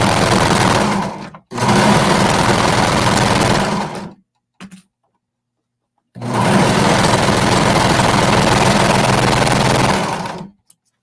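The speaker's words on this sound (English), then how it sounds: "just going to sew along these side seams. Using a 3/8 inch seam allowance." Domestic sewing machine stitching the side seams of a bralette at a 3/8 inch seam allowance, running in two long steady bursts with a brief tap between, loud and close with no talk.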